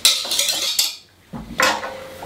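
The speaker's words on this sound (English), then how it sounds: "mix everything together. Use a whisk." A whisk scrapes and clinks against a bowl while keto marzipan mixture is stirred, a few close, quick rattling strokes with a short pause between, loud and with no talk.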